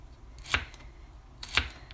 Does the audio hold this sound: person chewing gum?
no